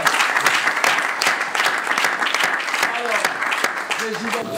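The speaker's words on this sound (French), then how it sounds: "Et on va applaudir pour ces félicitations" Dense audience applause at a televised school quiz show fills the room, with a voice talking and singing over the clapping toward the end.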